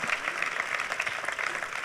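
An audience at a summer evening business gathering claps steadily for a priest and his medical charity, a dense, even patter of hands heard from within the crowd.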